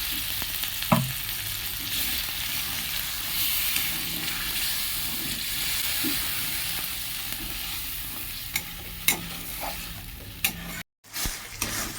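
Spice paste fries in a pan while being stirred for a potato and soybean dish: a constant sizzle with repeated scraping strokes and sharp clicks, then a brief cut near the end.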